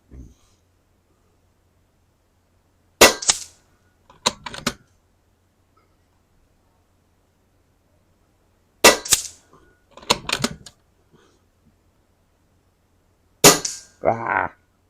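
Kalibrgun Cricket 2 air rifle firing pellets at a 25 metre target: three sharp close shots several seconds apart, each followed by a quick cluster of mechanical clicks, in an otherwise quiet setting.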